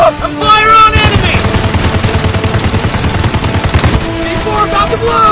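Rapid bursts of automatic gunfire in a police highway car chase driving simulator game, dense and loud, rattling steadily for about three seconds between sparse game sounds.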